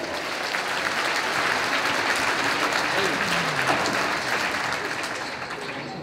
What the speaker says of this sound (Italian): vogliamo fare loro un grandissimo applauso